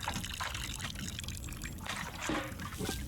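Water pours and trickles continuously onto a plant in the video game Botany Manor, a steady liquid splashing that fills the clip without talk.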